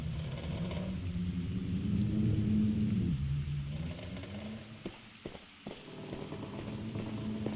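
Cold wind and rain pour through a broken window into a room with a collapsing wooden ceiling in the 2003 game The Black Mirror, a steady rushing hiss with a low rumble, continuous and fairly loud, with no speech.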